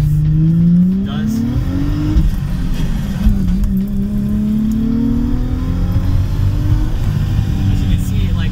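Infiniti G35 sedan, swapped to a manual gearbox with a lightened flywheel, revving on a back road; the engine climbs and settles in loud, close sweeps under steady road and wind rumble.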